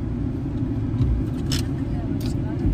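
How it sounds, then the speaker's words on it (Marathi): Car engines idle and rumble low in a stalled road traffic jam on the way to the Khandoba fair at Jejuri, a steady deep drone under people talking nearby. "एक तास झालं ट्रॅफिक मध्ये अडकलो आम्ही"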